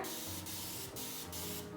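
A spray bottle mists a water mix onto Alocasia house plants, giving three or four short, close hissing bursts in quick succession against a quiet room.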